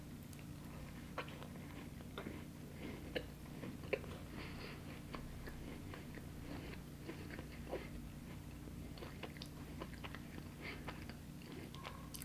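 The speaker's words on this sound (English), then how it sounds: "Kind of crunchy because it's a cookie." A crunchy Milk Bar cookie is chewed close to the mic in a steady series of soft bites and crunches, heard alone against a constant low hum.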